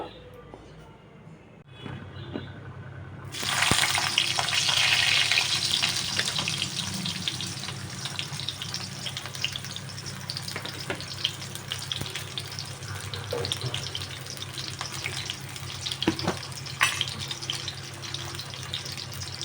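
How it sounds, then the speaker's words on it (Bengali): Pointed gourd (potol) pieces drop into hot oil and fry, a sizzle that swells sharply after a quieter start and then holds as a steady hiss with occasional clicks. "আমি প্রথমে পটলগুলো ভেজে নেব"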